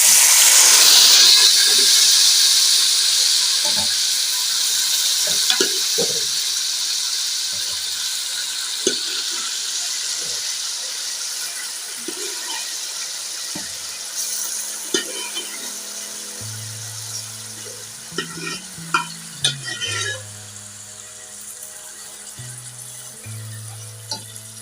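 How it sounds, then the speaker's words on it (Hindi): Grated carrots frying in a hot pan for gajar ka halwa, a steady sizzle and hiss that starts loud and gradually settles, broken by scattered stirring scrapes and clanks of a spoon against the pan. "अब हम इसमें गाजरें ऐड करते हैं।"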